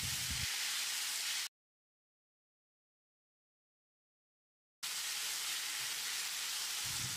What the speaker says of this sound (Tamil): 200 கிராம் அளவுக்கு 3 தக்காளியை நறுக்கி வச்சுருக்கேன், இதை போட்டு தக்காளியை கொஞ்சம் மசிகிற அளவுக்கு வதக்கிடலாம்.